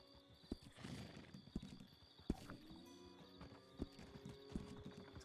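A horse moving nearby outdoors on a farm, irregular hoof clops thudding close by with a whinny mixed in, fairly quiet against open-air background.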